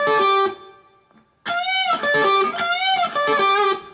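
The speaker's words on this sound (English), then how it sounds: "And you do an upward sweep with your pick." Distorted electric guitar plays quick upward pick sweeps across the first three strings in short bursts, a brief phrase, a pause, then a longer run of bright picked notes up close.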